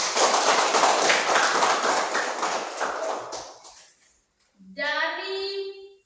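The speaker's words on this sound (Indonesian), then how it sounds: "Tepuk tangan dulu." A classroom group claps hands in a dense burst of rapid claps lasting about four seconds before fading out, after which a voice speaks.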